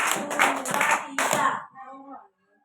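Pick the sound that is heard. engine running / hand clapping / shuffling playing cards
hand clapping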